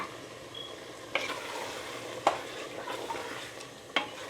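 Masala and tomatoes cooking in a pan for pav bhaji give a soft, steady sizzle close by, broken by a few sharp scrapes and clinks of a spoon stirring against the pan; no talking.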